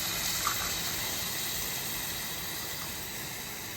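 A steady, continuous gush of water pouring into a rice pot from a tumbler, close by and unbroken, with no one talking.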